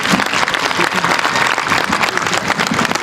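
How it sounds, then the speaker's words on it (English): Steady audience applause for speaker Norm Gonzales at a John Adams Academy-linked gathering, dense and continuous for about three seconds with no break. "Ladies and gentlemen, a warm round of applause,"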